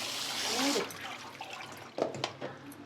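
Soaked soya chunks are squeezed hard by hand to press the water out, giving a soft, wet hiss followed by a few short, close splashes and drips in a kitchen.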